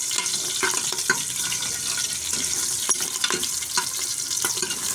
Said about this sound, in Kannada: ಬೆಳ್ಳುಳ್ಳಿ ಫ್ರೈ ಆಗಬೇಕು ಫಸ್ಟಿಗೆ, ಅದಕ್ಕೆ ಈ ರೀತಿ ಫಸ್ಟಿಗೆ ನಾನು ಫ್ರೈ ಮಾಡ್ತಾ ಇದ್ದೀನಿ